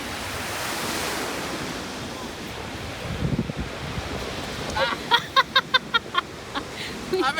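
Ocean surf rolls in at Kamaole Beach on Maui, a broad steady wash of waves mixed with wind buffeting the microphone, and a few sharp knocks and bumps near the end.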